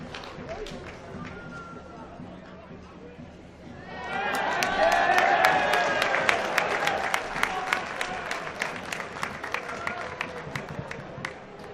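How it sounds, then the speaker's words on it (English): A football stadium crowd at a cup quarter-final applauds a ball kid. Scattered claps swell into loud, sustained applause and cheering partway through, with a commentator talking over the crowd. "Ball kid, I think, getting some applause from the crowd."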